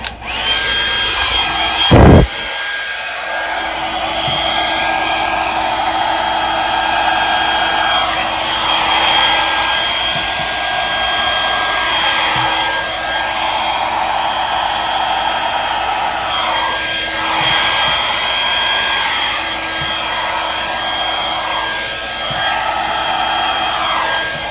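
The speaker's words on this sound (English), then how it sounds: "So what I want to do now, I've got my heat gun." A heat gun blows steadily on a fall-themed resin clock, a loud continuous whooshing drone with shifting airflow that runs for the whole stretch after a brief knock near the start.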